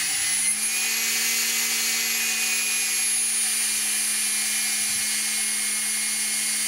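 A radio-controlled helicopter's electric motor runs steadily in idle-up mode with a direct motor control setup, a loud continuous whine with a sustained high-pitched tone and a low steady hum throughout, no voices.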